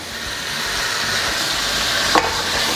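Half a kilo of tomatoes sauté in a pan for tomato thokku, giving a steady, close sizzle with faint stirring and one brief scrape near the end.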